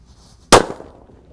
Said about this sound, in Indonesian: ini ada mercon disco 6 sekaligus.